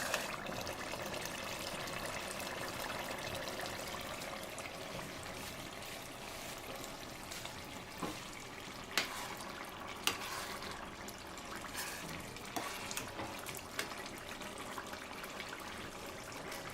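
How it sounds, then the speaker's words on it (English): Continuous bubbling, sizzling ayamase (ofada stew) sauce frying uncovered in a pot, steady throughout with a few sharp pops and clinks, no voices. "Because it is sauce and we are frying it, you don't have to cover it while it's frying."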